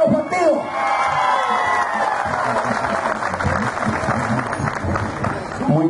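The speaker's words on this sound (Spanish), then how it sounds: "Quiero un fuerte aplauso para Catalino de todos los partidos." Audience at a 2015 mayoral candidates' debate in San Alejo applauds and cheers, a loud, steady crowd roar with shouts and whoops throughout, while voices carry over it.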